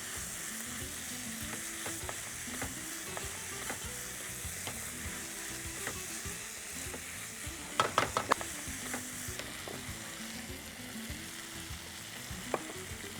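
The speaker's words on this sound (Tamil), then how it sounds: "நான் போடுறது வந்து எறா ஊறுகாய் போட்டு நல்லா வதக்கிறோம்." Prawn pickle sautéing in a pan sizzles and fries steadily and close, with scraping stirs and a few sharp clinks of a spoon against the pan partway through; no one speaks.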